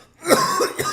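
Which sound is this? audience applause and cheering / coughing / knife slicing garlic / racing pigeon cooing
coughing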